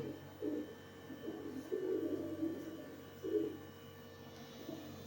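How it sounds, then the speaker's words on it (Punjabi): Pigeons, kept with their chicks for sale, give soft low cooing calls in several short bursts against a faint background hum. "ਕਿੰਨੀ ਸੋਹਣੀ ਕਬੂਤਰੀ ਹੈ"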